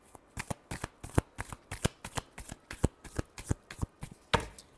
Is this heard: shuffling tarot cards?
yes